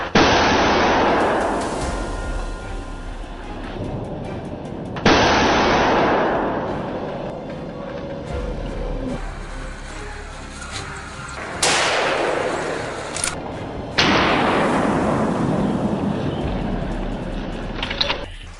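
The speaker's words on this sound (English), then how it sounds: "Gunfire erupted from all directions." Loud gunshots boom out during a wild boar hunt in dense forest, sharp blasts arriving at about 5, 12 and 14 seconds, each with a long echoing decay and rumbling between shots.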